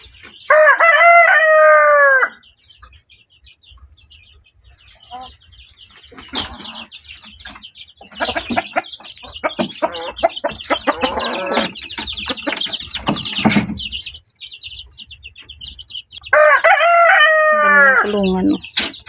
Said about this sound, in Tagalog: Malaking manok.